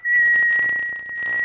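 A short, steady high whistle from an elk call, imitating a smaller bull, held alone for about a second and a half in a big game hunting setting.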